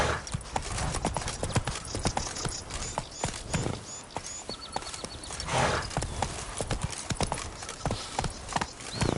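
Roach the horse trotting in The Witcher 3, with steady, loud clip-clop hoofbeats close by in a quick rhythm, layered over busy game ambience and the occasional snort.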